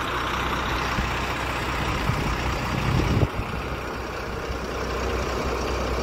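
Mahakal Durgamauli Travels buses run with a loud, steady engine rumble and a brief hiss and thump partway through, with no one talking.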